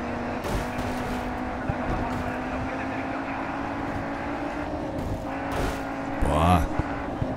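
Race car engine in Grid 2 droning steadily at speed, with shifting pitch and tire noise, while someone talks over the driving.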